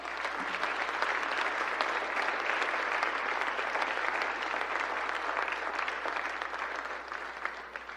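A church congregation gives steady, full applause, many hands clapping in a dense, even wash that holds strong for the whole stretch and eases slightly at the end.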